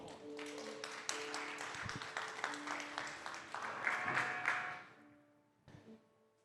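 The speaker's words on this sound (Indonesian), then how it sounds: "kalau mau kasih tepuk tangan Tuhan, come on" Church congregation at a GMS Los Angeles worship service claps along, a rhythmic run of hand claps over sustained music tones, building slightly then fading out, with a brief burst near the end.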